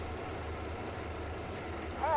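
A rail car engine runs in the Metro Exodus video game, giving off a steady low, droning rumble at moderate level, with a brief vocal sound rising near the end.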